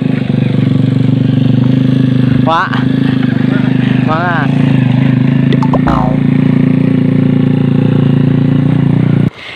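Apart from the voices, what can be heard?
motorcycle riding on a badly damaged road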